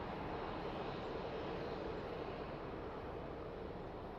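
An airliner takes off at Lisbon Airport, a faint, steady engine rumble and roar heard from a distance with no voices.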